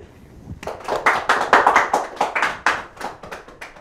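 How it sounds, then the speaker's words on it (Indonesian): A burst of applause from a crowd starts suddenly and continues steadily, loud and close, with no talking. "Tepuk tangan."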